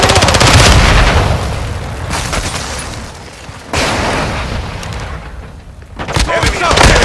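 Heavy automatic gunfire in Call of Duty: Modern Warfare II multiplayer, with loud sustained bursts broken by brief lulls and a final volley, under occasional in-game voice callouts.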